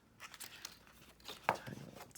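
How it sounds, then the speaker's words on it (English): Scissors cut the ends off a craft piece backed with foam: soft crinkling and rustling of material, then one sharp, close snip, quiet overall. "Let me cut these ends off with scissors."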